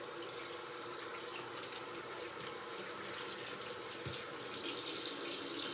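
Tap water runs steadily into a sink during surgical handwashing, a constant broadband hiss with no talk over it.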